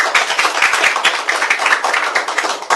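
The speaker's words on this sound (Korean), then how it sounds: "우리 강성만님께 또 큰 박수 부탁드리겠습니다" A crowd at a Rebuilding Korea Party fund event breaks into loud, dense applause for a 76-year-old attendee, the rapid overlapping claps sustained throughout without any voices.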